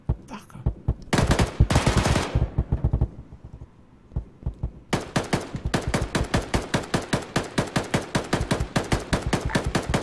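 Arma 3 gunfire: loud close bursts of rapid automatic fire, a pause with scattered single shots, then a long sustained stream of evenly spaced rounds.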